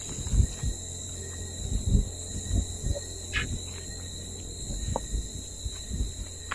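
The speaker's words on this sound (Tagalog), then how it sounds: "Mga insekto lang maririnig mo" Night insects, crickets among them, trill in a thin steady tone at a haunted church, with scattered soft thumps and rustles close by and no talking.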